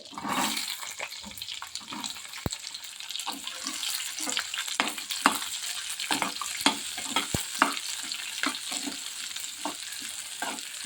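Onions sizzle and crackle in hot oil, with frequent scraping and clacking of a spoon stirring the pan.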